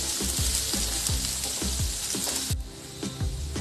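Finely chopped onion sautés in a pan with a close, steady sizzle, broken by a regular clack of a spoon stirring and scraping through it, with no voices.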